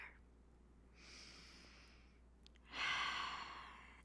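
Slow, soft exhalations during a restful yoga session: a gentle breath out, then a pause and a louder, fuller out-breath sighing toward the end, heard close and alone.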